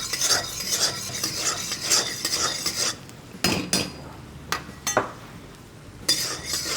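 A handful of peanuts dry-roasting in a pan over low heat, stirred in a steady run of scraping and rattling strokes with a few sharp clinks of a utensil against metal, close and clear, no talking.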